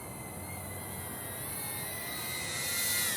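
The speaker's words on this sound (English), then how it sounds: "I'm following you with a drone." A DJI drone in flight makes a steady, faint high whirring hum that swells slightly louder toward the end, with no voices.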